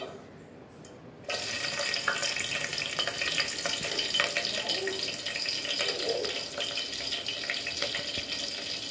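Green chillies hit hot oil in a pan for chicken curry, and a loud, sudden sizzle starts up and holds as a steady crackling hiss close by.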